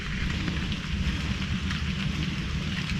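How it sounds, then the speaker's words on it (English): Steady rain falls on a November day beside the Tennessee River in Knoxville, Tennessee, making a dense, continuous close hiss with low rumble and no speech. "I wouldn't say it's pouring down rain, but it's definitely raining."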